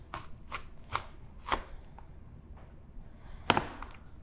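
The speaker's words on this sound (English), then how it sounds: "And then you chop it up the other direction." A knife chops a vegetable on a cutting board in a series of sharp, close taps, four spaced strikes followed by quieter ones and a final louder chop.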